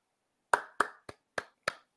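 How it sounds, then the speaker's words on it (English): Hand clapping for a round of applause in a quiet room, five sharp, separate claps close by, spaced about a third of a second apart, with no other sound around them. "I just want to give a round of applause."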